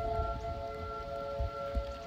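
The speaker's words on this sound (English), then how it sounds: "1 o'clock, sirens are going off." A civil defense siren sounds during a scheduled test on a snowy November day, a steady sustained wail held at a distance throughout, with faint low rumbles of wind or ambient noise underneath.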